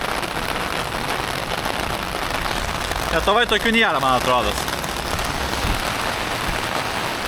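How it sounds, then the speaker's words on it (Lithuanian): Heavy rain pours steadily at a street crossing, a dense, loud hiss of drops on the ground that fills the whole stretch, with someone speaking briefly over it midway. "Atrodo, kad kuo toliau, to lietus intensyvėja."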